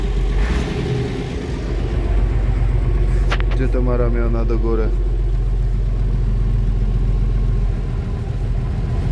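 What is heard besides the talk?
farm tractor engine running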